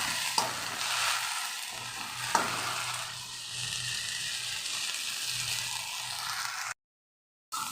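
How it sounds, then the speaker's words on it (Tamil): Mudakkathan greens sautéing in a pan, a steady sizzle broken by scraping stirs with a spoon, a few sharper clinks against the pan, then a brief drop to silence near the end. "இந்த அளவுக்கு நல்லா அந்த முடக்கத்தான் கீரை சுருண்டு வதங்கி வரணுங்க"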